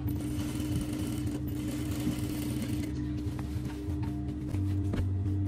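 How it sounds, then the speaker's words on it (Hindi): A sewing machine stitches a kandura dress, running steadily with a continuous mechanical hum and rapid rhythmic needle chatter throughout, close and fairly loud, with a slight rise near the end. "पांचवी सिलाई स्टार्ट है अभी"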